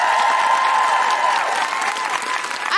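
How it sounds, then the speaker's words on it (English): A live audience at a comedy podcast recording gives loud, sustained applause for guest Dr Anne-Marie Imafadon. The clapping is dense and continuous, with some crowd cheering mixed in. "A big round of applause to the wonderful Dr Anne-Marie Imafadon"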